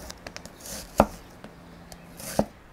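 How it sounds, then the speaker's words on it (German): A knife slices a halved onion into half rings on a board: two sharp, heavy cuts stand out among lighter, quicker taps, close and clear with no talk. "Und dann schneiden wir uns einfach nur so ein paar Halbringe runter."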